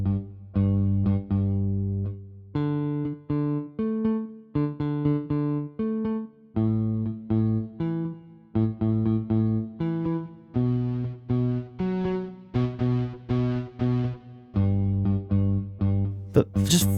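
Free sampled bass guitar played as a melodic line with a pronounced echo effect, notes ringing and repeating in a steady rhythm, loud and close, with no voices.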